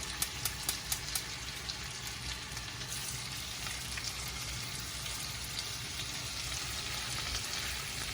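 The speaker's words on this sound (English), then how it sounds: "you're gonna get a real good sear. That's why I like to go skin side down first" Salmon searing skin side down in a hot pan, giving a steady, close crackling sizzle throughout, with a few quick ticking taps near the start.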